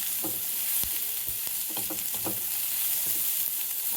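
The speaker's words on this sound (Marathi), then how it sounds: "एक 10 मिनिटं फ्राय करायचं आहे आपल्याला कॅप्सिकम ॲड केल्यावरती" Capsicum frying on high heat in a pan for Schezwan pizza, a constant loud sizzle with several close stirring scrapes and taps of a spatula.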